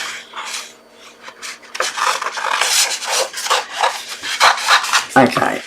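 Scissors or a blade snipping and scraping through card during fussy cutting, a close series of irregular rasping cuts and paper rustles, growing busier toward the end.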